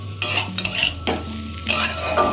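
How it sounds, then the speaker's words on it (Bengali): Potatoes with curry leaves and black pepper being stirred and fried in a pan, a spatula scraping and clattering in several close strokes over a low background hum, with no one talking. "দেন ভালো করে কষিয়ে নেবো আমরা আজকের রেসিপিটি"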